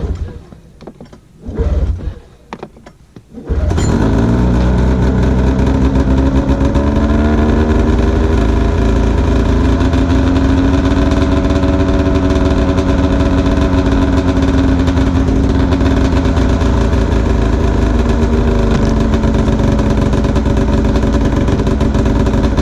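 A snowmobile that has sat unused for about a month fires up after a few seconds of quiet handling noises. It settles into a loud, close, steady idle with an even, throbbing engine drone that lasts the rest of the clip.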